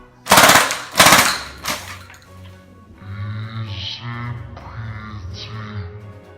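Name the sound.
Halo assault rifle toy gunfire sound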